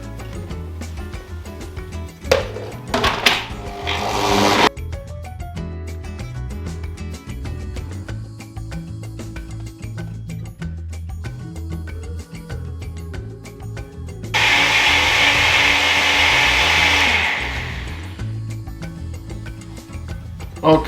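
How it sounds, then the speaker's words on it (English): A kitchen blender whirs through a low-fat fruit smoothie with water, its motor giving a loud close roar in bursts, with quieter mechanical clatter and ticking between the blending spells. "Now I have everything in the blender and I'm just going to blend this."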